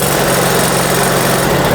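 A Scag V Ride 2 stand-on mower's fuel-injected engine runs loud and close with a steady, throbbing low rumble and no voices over it.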